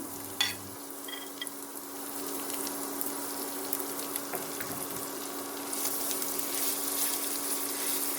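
Chopped carrot tossed into a pan of oil after onions for a Ukrainian dumpling soup, giving a soft, steady sizzle with faint stirring and scraping, with a brief clatter at the start and hiss rising toward the end.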